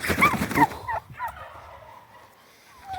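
Turkey gobbling on a farm, a loud burst of rapid gobbles at the start followed by quieter scattered calls and clucks, close to the listener.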